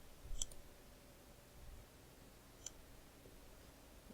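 Two faint, crisp computer mouse clicks, one early and one a couple of seconds later, set against quiet room hum while editing a table.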